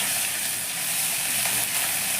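Crushed garlic dropped into hot oil already frying cumin and dried chili, giving a steady, loud, close sizzle and hiss that holds without a break.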